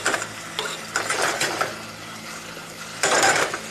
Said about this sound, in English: it's about a teaspoon so of garlic, saute in there